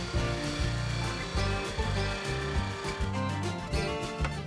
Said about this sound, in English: We're just using the bevel there just to round over that edge, just like you would on a bowl.